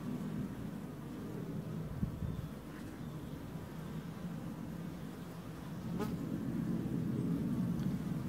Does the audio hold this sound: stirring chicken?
no